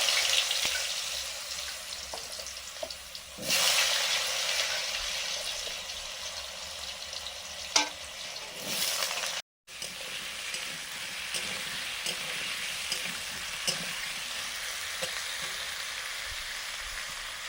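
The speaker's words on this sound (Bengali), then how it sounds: "কালো জিরে নুন নুন দিয়ে আলুটা ভাজবো" Potatoes fry with nigella seeds, dried chilli and salt in a pan, giving a steady, close sizzle with occasional stirring clatters and a brief dropout partway through. No voices are heard.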